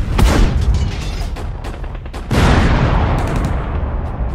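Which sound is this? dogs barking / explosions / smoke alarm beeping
explosions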